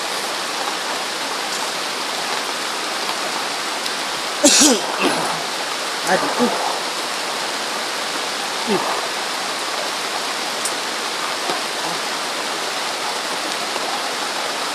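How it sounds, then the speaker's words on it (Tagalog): Heavy rain falls steadily as a dense, even hiss, with a few brief voices and small knocks breaking through the constant downpour. "Ngayon, masyadong ulan."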